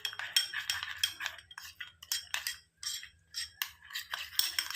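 A spoon stirs and scrapes a homemade face pack in a small bowl, with irregular light clinks and taps of metal against the dish, close and fairly quiet, no talking.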